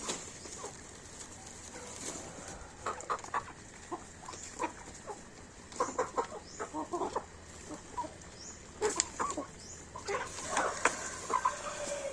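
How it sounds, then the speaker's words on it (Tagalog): Chickens cluck in irregular bursts, some nearer and some farther off, scattered across a quiet outdoor yard with soft background noise between calls. "Ito yung aking mga alaga, manok, pabo, may 2 pato."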